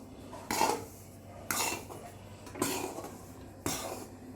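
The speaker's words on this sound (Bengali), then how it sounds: "এবার খুন্তি কত তাড়াতাড়ি নড়ছে, এবার ছাতু হালকা হয়ে এসছে।" A metal spatula scrapes through sattu dry-roasting in a kadai: four distinct scraping strokes, roughly a second apart, close and clear against a quiet kitchen.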